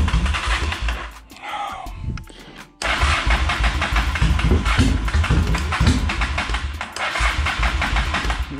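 A cold car engine cranks briefly, stutters, then catches and runs loudly at a steady idle, with a short dip before it roars steadily on.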